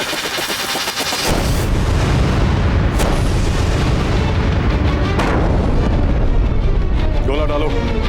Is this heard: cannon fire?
yes